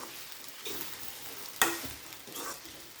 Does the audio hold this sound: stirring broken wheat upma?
yes